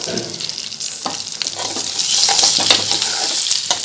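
A spoon stirs and scrapes through ragi mani kozhukattai tossed with grated coconut in a pan, giving close, uneven scraping and soft sizzling that grows a little louder midway.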